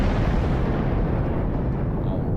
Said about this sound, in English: Explosions cause damage.